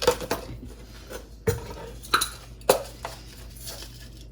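A spoon clinks and taps against a large metal pot of water as salt is added before boiling rice, giving several bright, close metallic knocks at an uneven rhythm with no talk.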